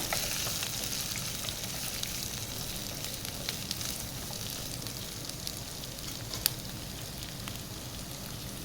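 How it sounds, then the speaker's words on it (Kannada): Chopped capsicum fries in a pan for chicken chilli, a soft, even crackling sizzle that holds steady throughout, with an occasional faint tick of a utensil. "ಈಗ ನಾನು ಹೆಚ್ಚಿಟ್ಟಂಥ ಕ್ಯಾಪ್ಸಿಕಮ್ ಹಾಕ್ಕೊಳ್ತಾ ಇದ್ದೇನೆ. ಇದನ್ನೊಂದು 2-3 ಮಿನಿಟ್ಸ್ ಫ್ರೈ ಮಾಡೋಣ."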